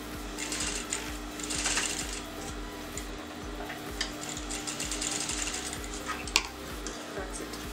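A sewing machine stitches the placket side of a dress, a continuous rapid mechanical whir with a rhythmic needle clatter running close and steady throughout.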